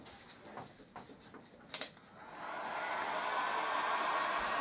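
A dryer speeds the drying of fresh paint on a staircase radiator, starting after a few clicks and handling noises and then blowing in a steady, close whoosh.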